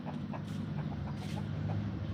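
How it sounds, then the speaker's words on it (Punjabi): Large hens and roosters clucking on a farm, soft repeated calls scattered through a steady low background hum, no voices. "ਵੱਡੇ ਮੁਰਗੀਆਂ ਤੇ ਵੱਡੇ ਮੁਰਗੇ ਆ ਵੀ ਠੀਕ ਠਾਕ ਨੇ"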